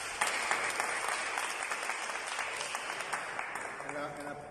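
An audience at a spiritual talk on the Big Book and the second step applauds, a dense clatter of clapping that fades toward the end while a voice speaks faintly underneath.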